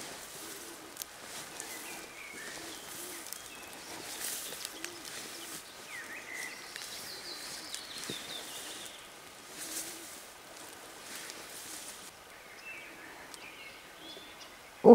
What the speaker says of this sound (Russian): Ух, как птички поют, заливаются